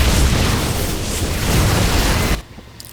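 Explosions and crumbling blasts as a Protoss photon cannon is destroyed in a StarCraft II match on Metalopolis, a dense, loud rumbling burst filling over two seconds before cutting off abruptly into near silence.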